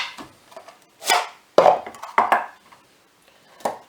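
Knife cutting an onion on a board while cooking prunes-and-meat stew, a few separate dull chops of uneven rhythm, close by, with quiet gaps between strokes and no talk.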